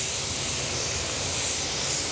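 Paint spray gun laying a light orientation coat of flakes during a striping and reverse-blend repair, giving a steady, close airy hiss that continues without a break.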